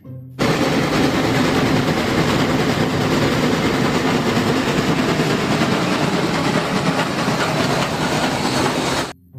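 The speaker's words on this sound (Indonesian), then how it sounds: "Yang ini kereta api lokomotif." A toy train locomotive, once muddy and now cleaned, gives a loud, steady rattling clatter. It runs without a break for about nine seconds, close by, with no talking.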